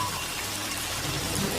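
Heavy storm rain pours steadily, a dense, even hiss of drops on surfaces that continues unbroken throughout, with no voices.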